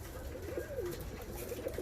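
Arab Rostov pigeons, a fancy Russian breed, coo softly and continuously inside their coop, a low warbling call close by over faint background noise.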